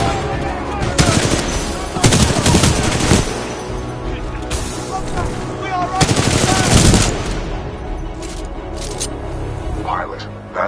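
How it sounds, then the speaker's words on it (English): Supporting gunfire in a military shooter video game, loud rapid automatic bursts and heavy impacts that come in repeated volleys over several seconds, with a radio-style voice speaking amid the firing. "Commencing supporting fire. Danger close."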